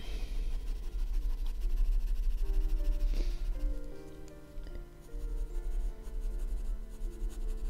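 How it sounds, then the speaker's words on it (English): A colored pencil blends and burnishes red over paper with soft, continuous scratchy strokes, close up, under faint background music. "I'm just blending it all in now, and then I'll go back over it with the darker red"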